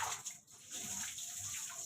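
Water splashes and rushes steadily during an outdoor bath for two animals, a continuous close wash of running and sloshing water with no voices.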